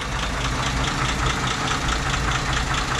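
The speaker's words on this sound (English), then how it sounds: "Engine runs and sounds as it should." Steady running of the inline six-cylinder engine in a 1956 Dodge C-4-B half-ton pickup, heard close as a constant low drone with a light rhythmic ticking, no voices.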